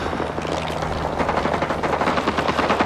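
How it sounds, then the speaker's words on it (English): AC-47 gunship fire support in the video game Rising Storm 2: Vietnam: a dense, loud, continuous roar of rapid automatic fire over a droning aircraft engine, with no talk. "AC-47 inbound"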